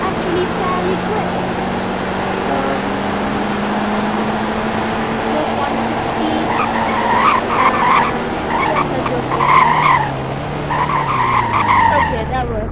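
A rear-wheel drive car in the Roblox game Greenville drives along with a steady, loud engine drone and shifting pitch, tires squealing as it corners near the end, with no voices over it.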